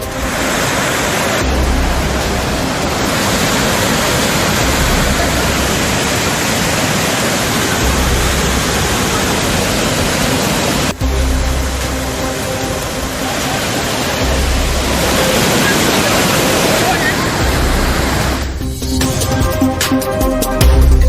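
Hogenakkal waterfall and river, a loud, steady, broadband roar of rushing and falling water that continues without pause, with a few abrupt shifts in level as the scene changes.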